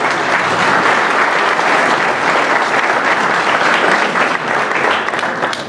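An audience gives a speaker a dense, loud, even wave of applause, many hands clapping at once in a steady roar that barely dips before fading slightly at the end.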